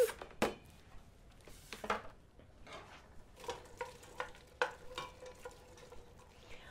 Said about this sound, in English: Getting our stovetop hot. Our onions are going in.